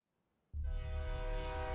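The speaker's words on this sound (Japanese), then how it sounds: "これは列車ですね" A train roars past in a horror video game set in a huge factory being demolished, bursting in abruptly from near silence with a loud rumble and a sustained tonal horn-like drone.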